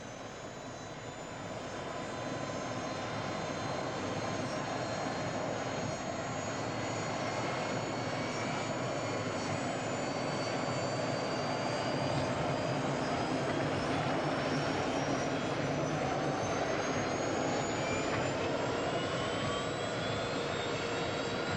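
A steady, loud helicopter engine roar and whine drones on continuously with no pauses, slightly building in intensity.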